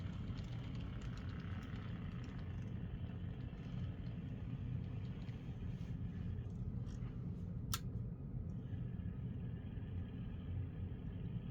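A 3D printed N scale Fairbanks-Morse H10-44 switcher locomotive runs along model track with a steady, fairly loud motor and wheel rumble, broken once by a sharp brief click.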